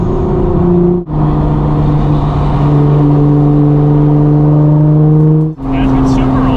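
Liberty Walk Nissan GTR, an 800hp road car, revving and downshifting loudly up close, with steady droning engine tones broken by two sharp gear-change dips; voices are faintly present under the engine.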